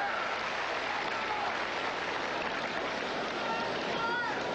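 Steady tennis crowd applause at the 1979 US Open fills the scene, a dense wash of clapping at moderate distance that holds evenly throughout.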